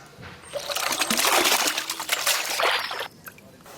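Chicken pieces are washed in water in an outdoor village kitchen, giving a loud, steady trickling and sloshing that swells for about three seconds and then stops abruptly.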